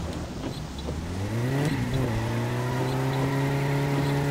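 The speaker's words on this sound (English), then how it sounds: "Second gear burnout" A car in My Summer Car revs hard through a second gear burnout, the engine note climbing in pitch and then holding a loud, steady high drone.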